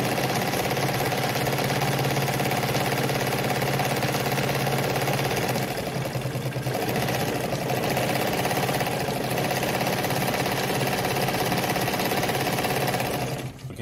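A Kohler WZ automatic sewing machine runs steadily, stitching a zigzag pattern with a continuous mechanical whirr and a dense, even rhythm from close by for nearly the whole stretch, with no voices.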